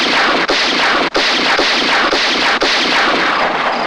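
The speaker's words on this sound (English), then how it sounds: "Can't you fire that gun quieter?" Sustained gunfire sound effect from a 1962 comedy radio sketch, a loud continuous roar of rapid bursts with a few brief breaks, played alone without talk.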